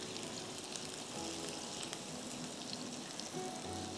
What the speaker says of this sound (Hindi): यहाँ दाल का तड़का लगा रही हूँ।